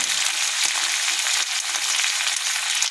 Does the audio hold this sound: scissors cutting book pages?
no